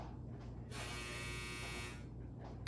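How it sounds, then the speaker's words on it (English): A laundry machine running indoors, a quiet steady drone with a harsher buzzing whine that swells for about a second before easing back. "apparently the laundry machine has decided to make itself known"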